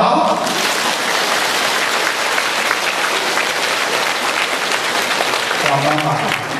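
An audience at a question-and-answer gathering in Penang, Malaysia, breaks into loud, dense applause that fills the whole stretch with a steady, close roar of clapping.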